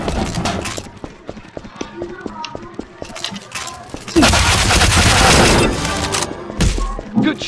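Rapid Uzi fire in the Roblox game Arsenal, with sharp shots in quick bursts followed by a dense stretch of sustained firing, all loud and close, with game sounds in between.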